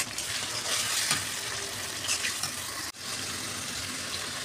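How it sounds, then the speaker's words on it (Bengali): Ginger and garlic paste frying in hot oil for a dried fish bharta, a steady, close sizzle with stirring that briefly dips and then resumes. "এখন আমি একটু আদা আর একটু রসুন বাটা দিয়ে দিব।"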